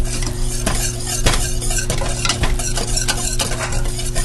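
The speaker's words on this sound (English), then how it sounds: "We're just going to whisk this in." Buttermilk, vanilla and powdered sugar icing for a white Texas sheet cake whisked in a pot off the heat, a steady, close, rapid clicking and scraping of the whisk throughout.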